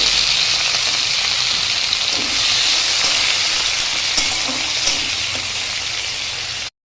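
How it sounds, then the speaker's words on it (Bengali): Cut potatoes frying lightly in a pan, giving a steady, dense hiss of sizzling oil that runs unbroken and close throughout before stopping abruptly. "আর দিয়ে দিচ্ছি কেটে রাখা আলুগুলো। হালকা করে একটু ভেজে নেব।"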